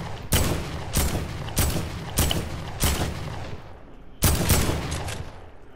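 A heavy weapon in Fortnite fires five loud, booming shots at an even pace about half a second apart. After a short pause, one more blast follows, and each shot leaves a brief rumbling tail.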